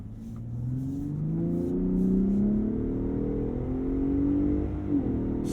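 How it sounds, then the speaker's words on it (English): A 2021 Ford F-150 Raptor 37 revs up under acceleration from the cabin, its deep engine note rising steadily in pitch, then dropping with a gear change near the end. "Certainly deeper than how I remember the Raptor sounding last time I drove one"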